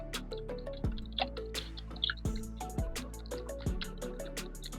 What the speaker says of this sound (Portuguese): E nós vamos bater bem esse ovo para poder jogar aqui dentro.